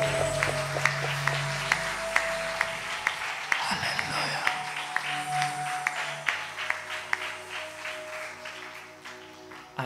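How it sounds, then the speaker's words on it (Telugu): A church congregation claps loudly in a steady rhythm during worship, sharp evenly spaced claps over a sustained background of music and voices in a large hall. "గట్టిగా చప్పట్లు కొట్టాలి"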